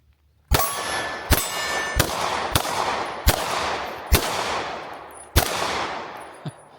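Glock 19 pistol shots, RXM variant, ring out one after another in a steady sequence of about seven loud, sharp reports, each followed by a bright metallic clang and short ringing decay as the rounds strike steel targets.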